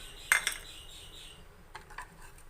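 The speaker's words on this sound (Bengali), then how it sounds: "আর এইখানে আমি ডিমটাকে দিয়ে দিব, একসাথে সব মিক্স করে নিব।" Spoon clinking against a bowl while beef tripe kebab mixture is stirred together with egg, two sharp metallic taps early then softer scraping and clinks, close and quiet, no talking.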